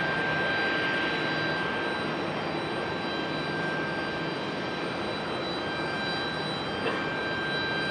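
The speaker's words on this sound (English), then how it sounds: "American Airlines 737" An American Airlines Boeing 737 jet at Raleigh-Durham International Airport hums with a sustained engine roar and a sharp, steady high whine, level and unbroken for eight seconds with no voices.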